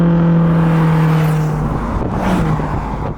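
BMW XM engine running loud and close, a steady deep drone that shifts and rises as it revs, with no talk.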